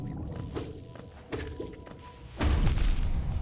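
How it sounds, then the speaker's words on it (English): In Hollow Knight, several dull thuds and impacts lead into a heavier booming explosion that rumbles on for about a second, set against steady game ambience. "Yeah, it's the explosion radius. It's getting me even if I'm dashing through."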